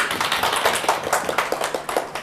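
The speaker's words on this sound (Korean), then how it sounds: "네, 박수 한번 쳐주시고." A lecture-hall audience in a real-estate law class claps briefly, a short burst of rhythmic hand claps, close and moderately loud, with no speech over it.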